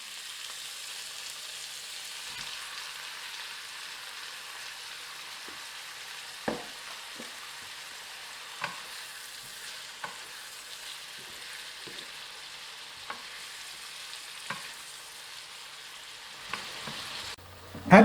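Seafood fries in a wok for ho fun noodles, a steady low sizzle with occasional sharp clinks and scrapes as it is stirred, ending in a louder clatter.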